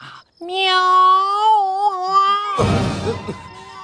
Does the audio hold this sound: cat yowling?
yes